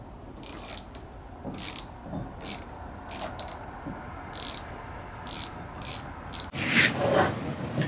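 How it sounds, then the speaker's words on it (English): A ratchet wrench removes the rear sprocket bolts from a Suzuki DR650 motorcycle, giving short bursts of quick clicking with pauses between them, followed by a louder, denser rattle near the end. "First, let's go ahead and get this sprocket off."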